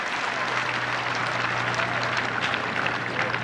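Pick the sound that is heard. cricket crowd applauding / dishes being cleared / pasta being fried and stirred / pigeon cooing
cricket crowd applauding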